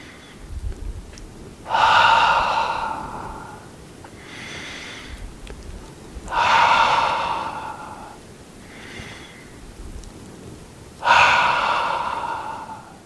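Slow, deep breaths during a qigong exercise: three strong inhales spaced about every four to five seconds, each followed by a softer exhale. The breathing is close and clear, with no talking.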